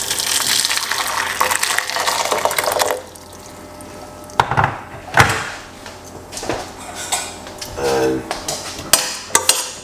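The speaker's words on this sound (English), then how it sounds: "Pour some hot water." Hot water pours into a medium-sized pot holding an avocado seed, a loud gushing stream for about three seconds, followed by scattered clinks and clatters of the pot.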